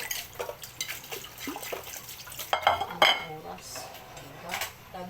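Plates and dishes being washed by hand, with clattering crockery, clinking cutlery and splashing water in irregular close bursts and brief talk in between.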